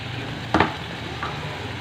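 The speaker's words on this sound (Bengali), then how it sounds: "তো এটাকে একটুখানি ভালো করে আর কি মশলাটাকে কষিয়ে নেবো" Spice masala with roasted cumin powder being stir-fried in a pan: a soft steady sizzle with one brief scraping stir burst in the middle and a fainter one later.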